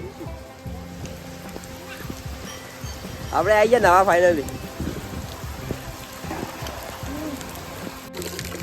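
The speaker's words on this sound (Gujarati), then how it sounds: "ભારે વરસાદ ચાલુ થઈ ગયો" Rain drums steadily on a surface throughout, while people talk over it and one voice rises loudly partway through.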